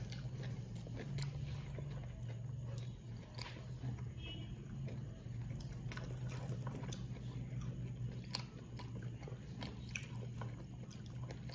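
Close, moist chewing and biting on juicy cooked chicken in the style of Max's fried chicken, with soft repeated crunches over a steady low background hum and no talking.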